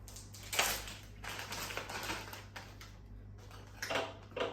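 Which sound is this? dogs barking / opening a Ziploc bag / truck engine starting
opening a Ziploc bag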